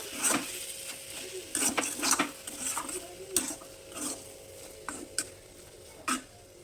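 Roasted cumin and dried chili powder are mixed into a banana flower chop filling, with repeated soft scrapes and light clinks of a spoon against a bowl, fairly close and without talk.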